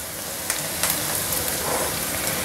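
Spoonfuls of thick ground dosa batter punugulu drop into hot oil and fry with a steady, dense sizzle and crackle, a few louder pops standing out near the start, close and without voices.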